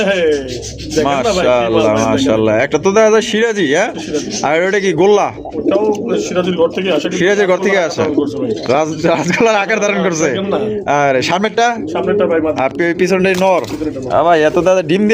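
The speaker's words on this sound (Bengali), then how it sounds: "হাড়ির উপরে যে খালি কুতকুত করতে আছে" Pigeons coo continuously, rolling and overlapping, close and loud at a pigeon seller's stall, while people talk over them throughout.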